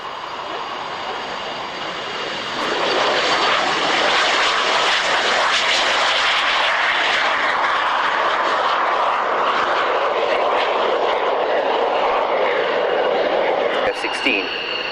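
A Fouga Magister jet performs a low, slow display at the Yeovil airshow, its engine roar swelling after a couple of seconds and holding loud and steady, with crowd-area ambience underneath.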